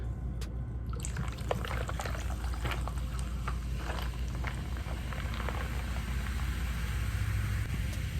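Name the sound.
soda being poured into a cup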